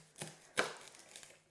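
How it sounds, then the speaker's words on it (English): A knife cuts the top off a garlic bulb on a board, giving two distinct crisp chops a fraction of a second apart, then light tapping, close and quiet. "cut off the top part of garlic"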